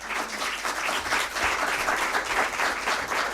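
An audience at a literary reading applauds a speaker with dense, even clapping that carries on steadily from start to finish.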